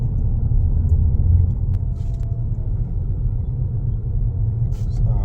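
Steady car and engine rumble from slow, congested traffic on the road to a mosque in Sharjah, where an accident has blocked the way; a continuous low drone with a few faint clicks, no talk.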